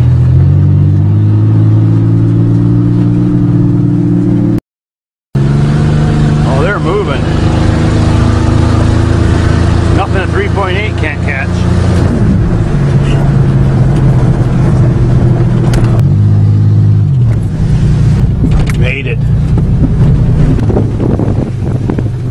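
Nissan 200SX engine revving hard toward redline on a muddy farm joyride, a loud sustained drone with rising pitch sweeps and a brief cut, under wind buffeting and excited voices talking.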